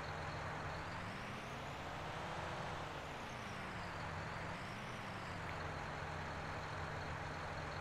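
A tractor drives toward the field in Farming Simulator 19 on the Charwell map, its steady engine drone droning on without a break, pitch rising and falling gently as it rolls along at moderate volume.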